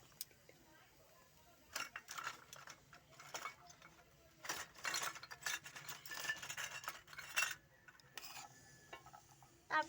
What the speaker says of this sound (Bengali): তারপর এটা ভেজে নেব।